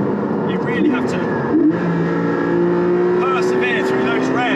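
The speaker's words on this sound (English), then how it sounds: "that monumentally loud intake noise of the engine just behind" Loud intake roar from the Porsche 718 Cayman GT4's mid-mounted engine under hard acceleration, pitch climbing steadily through the revs with a brief gearchange dip, heard from inside the cabin.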